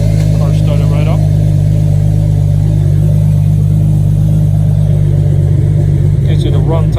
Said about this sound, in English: Car started right up.